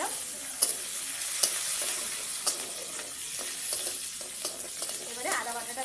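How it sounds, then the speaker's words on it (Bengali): Ginger paste and green chillies hitting hot oil with black cumin seeds in the pan, giving a soft continuous sizzle and hiss punctuated by a few sharp spatula taps and scrapes. "এবার আদা বাটাটা দিয়ে দিচ্ছি, কিছুটা কাঁচা লঙ্কা তেলের উপর দিয়ে দিলাম।"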